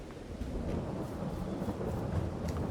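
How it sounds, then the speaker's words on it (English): Steady rain hisses and a low rumble of thunder rolls on in the Farming Simulator 22 video game, a dense and continuous wash of weather sound with no voices. "as usual, it's raining"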